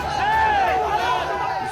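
Crowd shouting slogans in the street at a protest over the national flag in Noida, many overlapping raised voices chanting loudly and close, a dense brief burst of shouting.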